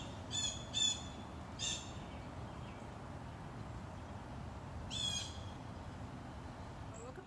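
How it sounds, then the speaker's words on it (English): Birds chirp and squawk around a city porch, a few short bursts of calls near the start and another around the middle, over a steady low urban rumble. "I'm just gonna wait and watch and absorb the energies of the bird song"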